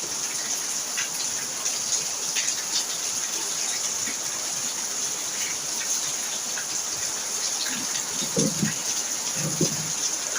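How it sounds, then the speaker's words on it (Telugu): Heavy rain pouring at night in a village, a dense steady wash of falling water with scattered drip and splash accents on nearby surfaces, continuous and close, with no voices. "మరి వర్షం అయితే ఇంకా ఫుల్గా స్టార్ట్ అయిపోయింది"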